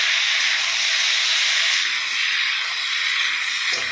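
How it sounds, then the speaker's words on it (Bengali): Eggplant and potato pieces, salted, drop into a frying pan after bitter gourd and sizzle in a loud, steady hiss up close, with no voices. "উচ্ছেটা আমার হালকা করে ভাজা হয়ে গেছে, এবার আমি বেগুন আলুটা দিয়ে দেবো।"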